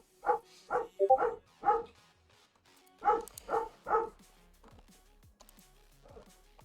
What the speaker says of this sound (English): You can't really hear the barking all that well